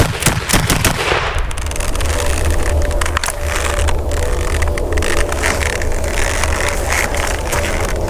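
Guns fire blank rounds at targets in a loud opening burst of sharp cracks, followed by a dense, roaring rattle of continuous fire that carries on to the end.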